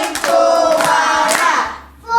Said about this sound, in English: can you clap that one for me?